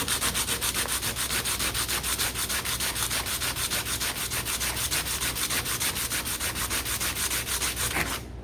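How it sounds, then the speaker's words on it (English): Sandpaper is worked back and forth on a custom harp slider, making a continuous, close, raspy scraping with fast even strokes for about eight seconds before it stops. "You can see in the sandpaper now, it's making contact on all three sides."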